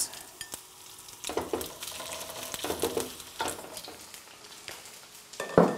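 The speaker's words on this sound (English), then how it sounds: "We put our cooking oil in the pan. Then we add our" Onions go into hot cooking oil in a pan for sausage fried rice and fry with bursts of crackling sizzle that swell and fade, plus a few stirring knocks, close up with no talking.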